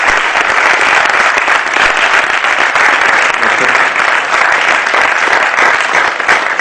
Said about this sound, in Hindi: आपकी जोरदार तालियों के साथ